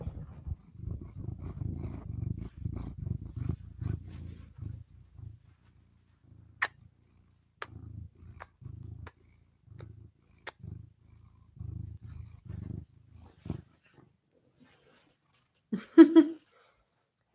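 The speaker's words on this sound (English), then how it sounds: "Are you purring?" A cat purrs close up in rhythmic, rumbling pulses that pause briefly and resume several times, with a short, sharper sound near the end.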